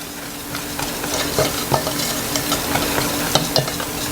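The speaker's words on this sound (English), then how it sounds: "now let me stir my nuts." Pecans being stirred in a pan for a pumpkin pecan cheesecake, with a soft sizzle under scattered scraping and clicking strokes. The strokes are close and irregular, and no one talks.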